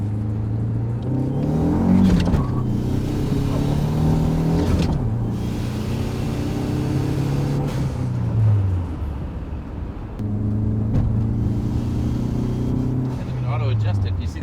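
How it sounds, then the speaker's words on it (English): Car driving along a road, a steady engine rumble and road noise with rising and falling gear tones throughout, heard from inside the cabin with people talking over it. "Watch how Dave drives"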